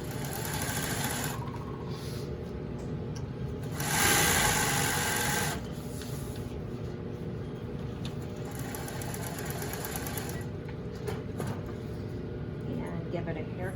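Sewing machine stitching fabric right side to right side, a steady close mechanical whirring and knocking run with a brief louder burst, while people talk over it.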